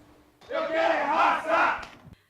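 A crowd of América football supporters protesting outside the club's training centre, chanting together in a loud, sustained roar of many voices that starts abruptly and cuts off after about two seconds.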